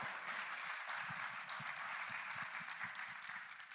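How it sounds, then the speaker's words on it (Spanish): Audience applause for conference panelists, a steady wash of many hands clapping at moderate distance, continuous throughout with no talk over it. "Un aplauso, por favor, para ellos."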